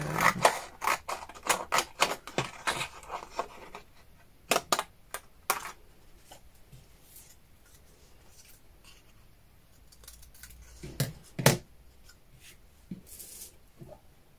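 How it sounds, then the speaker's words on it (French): Scissors cut out paper for an Easter card, close snipping in quick runs of crisp snaps, then a quieter stretch of handling before a few more cuts. "On va découper celui-là"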